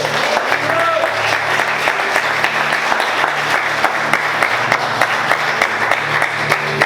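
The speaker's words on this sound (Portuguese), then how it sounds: "E aplauda Jesus com forte." A church congregation claps together at a sermon's close, a dense steady wash of applause lasting throughout, with some voices mixed in.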